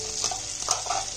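About two tablespoons of oil and butter heat together in a pan, giving a soft, close sizzle with light stirring scrapes over a brief moment.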